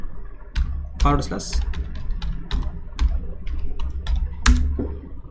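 Someone types on a computer keyboard while setting up form tracking in Google Analytics, with irregular clicks and key taps spread across the moment under soft, low background noise; no clear talk is heard.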